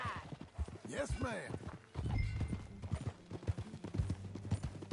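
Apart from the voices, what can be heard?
horse hooves clip-clop, from video game Red Dead Redemption II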